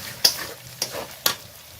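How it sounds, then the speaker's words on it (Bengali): Garlic, ginger and spices dropped into hot oil for a village-style olive pickle, a close, light sizzle broken by three sharp stirring clicks of a utensil against the pan. "তেল গরম হয়ে গেছে, এখন দিয়ে দিচ্ছি রসুন, আদা,"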